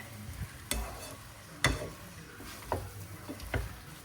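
Japchae noodles are tossed with sesame oil in a pan, making a few soft scrapes and taps spaced out over a faint, steady sizzle. The sound is quiet and close, with no talking.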